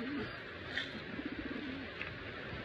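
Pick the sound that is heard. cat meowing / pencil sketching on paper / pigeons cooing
pigeons cooing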